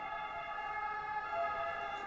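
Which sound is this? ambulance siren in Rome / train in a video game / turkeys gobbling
ambulance siren in Rome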